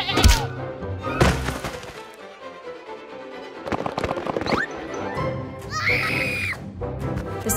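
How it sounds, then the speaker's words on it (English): Cartoon farm animals scream and sheep bleat in a chaotic burst during an attack on a farm, with loud shrill cries, thumps and a high squeal standing out over busy background effects. "The screams from the animals got the gorilla up."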